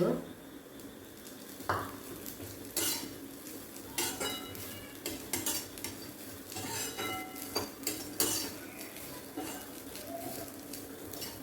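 Freshly grated coconut dry-roasts in a pan for coconut podi, a utensil scraping and stirring through it with irregular clinks against the metal over a low, steady background.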